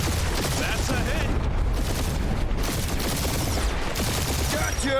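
Spaceship dogfight gunfire in the Guardians of the Galaxy video game, a loud, steady wash of rapid shots and blasts with engine roar, filling the whole stretch without a break.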